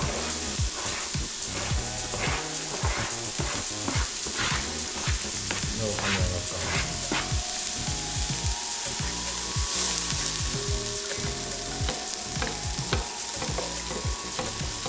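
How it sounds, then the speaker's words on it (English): Food sizzles and crackles steadily in hot oil, with a utensil scraping and stirring throughout and a brief spoken remark over it. "Look at that sizzle."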